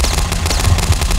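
Shotgun gunfire in the video game Box Head, a loud, steady stream of rapid shots close up, one firing right after another with no pause.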